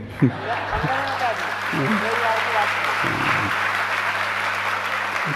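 Applause ripples through the audience at a Jain religious sermon, a steady wash of clapping beneath a sustained droning tone, with a voice speaking briefly over it.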